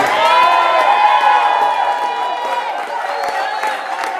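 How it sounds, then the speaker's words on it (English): A crowd at a coalition rally inside City Hall greets an alderman with loud, continuous cheering and shouting, with applause mixed into the roar throughout. "let's please give a rousing round of applause to our good Alderman Walter Burnett"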